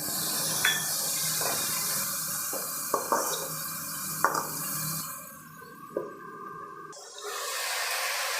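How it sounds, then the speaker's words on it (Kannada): Onions and beans sizzling in a pan rise into a hissing rush as a couple of spoonfuls of water hit them, with a few knocks and clinks, then fade to quieter simmering. "ಈಗ ಒಂದೆರಡು ಸ್ಪೂನ್ ಆಗೋಷ್ಟು ನೀರು ಸೇರಿಸ್ಕೊಳ್ತಾ ಇದ್ದೀನಿ"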